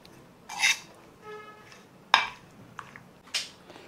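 Boiled potato is mixed with a mint, coriander and green chili mixture in a quiet kitchen, giving a few separate scraping and clinking bursts of utensil against bowl between short pauses.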